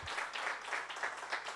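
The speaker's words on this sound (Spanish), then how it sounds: "Dale un aplauso al Señor." Congregation applauding during a church service, faint steady clapping with no talk over it.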